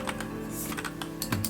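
Steady, brisk typing on a Keychron K2 or K6 mechanical keyboard resting on a palm rest, a close run of crisp overlapping key clacks with no pauses and no voices.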